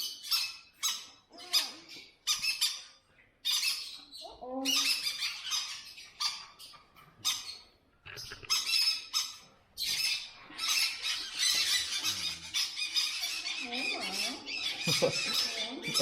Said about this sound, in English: Oh, what a nice parrot this one is.